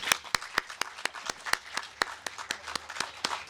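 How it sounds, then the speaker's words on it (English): Applause from a small crowd at a solar array dedication ceremony with students present, a sparse run of distinct, fairly regular hand claps at moderate distance, with no speech. "Stand up so we can give you a round of applause."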